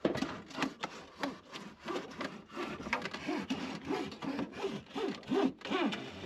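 A wire saw cuts through a junkyard car windshield in quick back-and-forth strokes, a rhythmic rasping, scraping sound, close and continuous over several seconds.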